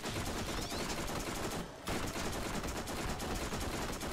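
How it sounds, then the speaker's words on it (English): Continuous, dense gunfire in the video game Borderlands, loud and unbroken apart from a brief gap near the middle, with no voice over it. "I'm just gonna just aim down at him and shoot him in the face"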